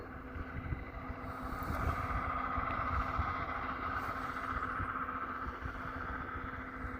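Old Caterpillar diesel in a log truck pulling hard and wound up under load, a steady loud droning engine roar with a constant low hum throughout, alone with no talk.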